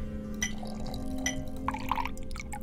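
Acid and detergent being poured in the puzzle game Don't Escape 3: soft liquid trickles and a few small drips and glassy clinks over a steady low hum, fairly quiet, no talking.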